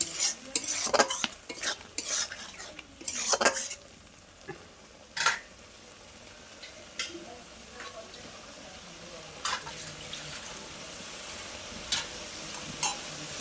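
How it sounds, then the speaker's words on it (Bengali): Prawns stir-fried in masala produce a soft background sizzle under repeated sharp clinks and scrapes of a spatula against the pan, clustered early and then spaced out, with no speech. "এবার চিংড়ি মাছটা দিয়ে দেবো। দিয়ে ওর সঙ্গে একটু কষে নেবো"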